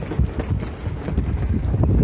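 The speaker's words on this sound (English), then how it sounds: "It's very windy." Strong wind buffeting the microphone on a cruise ship deck in Alaska, a loud continuous roar with gusty surges and no voices.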